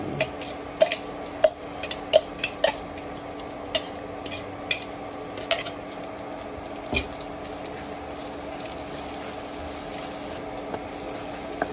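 Onion and garlic sautéing in oil in a pan, a quiet steady sizzle broken by light ticks and clicks of stirring, no voices.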